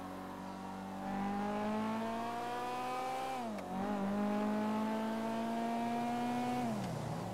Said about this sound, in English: This car does sound pretty good.